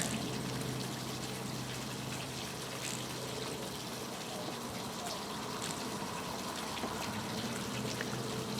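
Water pours and gushes steadily from a hose into a flushing attachment on a bass boat outboard motor, a continuous close rushing wash with a low hum underneath.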